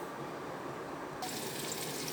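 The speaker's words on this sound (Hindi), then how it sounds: "ये बबल्स ये देखें इसके अंदर बन रहे हैं, कावे के अंदर देख रहे हैं आप, ये बबल्स बन रहे हैं।" A pot of kahwa, a weight-loss drink made by steeping ingredients in water, simmers with a steady hissing, bubbling wash that grows slightly brighter partway through, with no voices.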